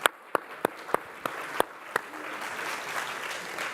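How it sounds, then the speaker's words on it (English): A moderator at a political event claps sharply about seven times, loud and close, while a softer wash of audience applause rises behind and continues after the individual claps stop. "Not sure the moderator should clap, but I just did."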